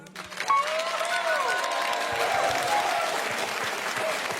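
An audience applauds after a live piano-voice performance. The steady, fairly loud clapping is sustained throughout, with a few voices and a faint tone rising briefly near the start.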